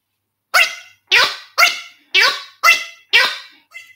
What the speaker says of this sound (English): I'm going to show you the squeaky dog chew bowl toy